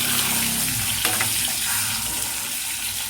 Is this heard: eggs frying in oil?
yes